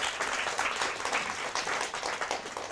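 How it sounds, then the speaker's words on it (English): Audience applause at a school math championship, a steady wash of many hands clapping at moderate volume with no talking, lasting a few seconds. "Round of applause."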